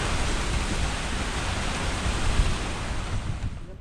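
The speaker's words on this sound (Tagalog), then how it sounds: "Yun oh, lakas ng hangin." Strong wind from a passing typhoon: a loud, continuous roaring rush of broadband noise that holds steady throughout and cuts off abruptly at the end.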